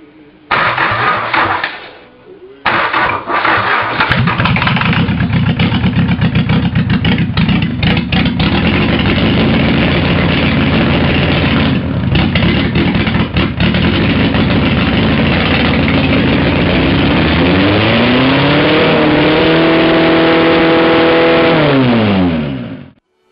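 A cold Mazda diesel engine cranks and catches, then settles into a loud, clattering idle before being revved, with rising and falling pitch toward the end.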